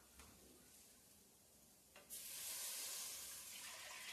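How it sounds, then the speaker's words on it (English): Quiet stirring at first, then a sudden loud sizzle as chicken stock hits a hot pan of risotto, hissing steadily to the end. "So you hear the sizzling."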